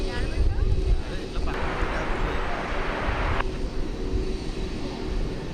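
A fixed-wing airplane at the DFW airport runway rumbles as a steady, loud engine roar that holds throughout, with a brighter broadband swell in the middle, heard by plane spotters on an Independence Day weekend.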